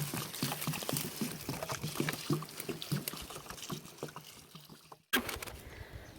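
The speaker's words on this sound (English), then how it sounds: "you want to water it with a lot of water." About a gallon of water poured onto the soil around a newly planted fruit tree, a steady splashing and sloshing close by that stops abruptly near the end, then resumes briefly.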